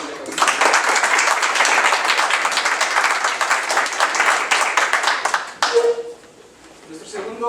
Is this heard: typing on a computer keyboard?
no